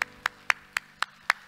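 A congregation in a church clapping, six crisp hand claps at a steady even beat, close and clear with no talk.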